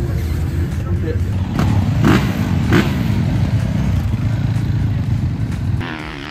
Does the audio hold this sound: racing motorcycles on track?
yes